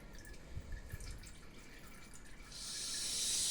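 Melted beeswax dripping off a plastic national beehive foundation sheet, soft scattered drips and trickles close by, then a broader hissing wash of liquid building up at the end, no voices.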